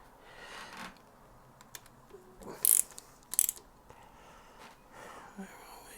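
Ratchet wrench tightening bolts diagonally on a Suzuki Hayabusa motorcycle during a rebuild, heard as a few brief, sharp clicking bursts close by over a quiet workshop background.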